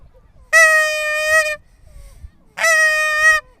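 Two long, loud, steady honks from a blown Canada goose call, each lasting about a second, separated by a quiet gap with faint low background noise.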